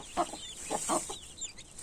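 Hens with their chicks cluck near a village stream: several short, close clucks come in quick bursts over a quiet background.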